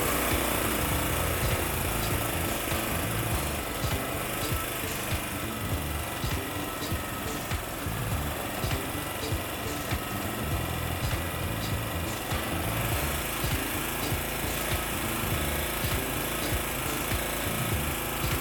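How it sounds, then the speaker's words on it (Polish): A small petrol generator engine, a Daewoo GDA2500i, runs steadily for the whole stretch, droning loudly and evenly without pauses or voices. "Silnik oczywiście rozgrzewamy, aby olej stał się bardziej płynny"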